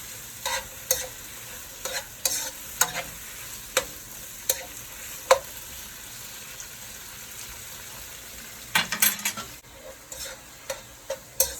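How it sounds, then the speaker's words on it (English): Seasoning and scallion frying in a pan for a Jamaican steamed fish dish: a steady low sizzle broken by irregular spoon scrapes and taps against the pan, close and moderately loud. "I'm gonna add in my scallion. So as you can see, my seasoning is cooking up."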